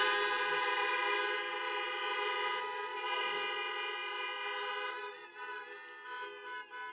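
Sustained horn-like tones blare throughout as car horns honk in jubilation during a church service, a steady dense chorus that thins out near the end.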